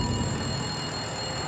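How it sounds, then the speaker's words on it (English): A telephone rings, a steady electronic ringing tone held at even loudness for the whole short stretch, with no voices over it. "The phone had begun ringing at exactly 7 p.m."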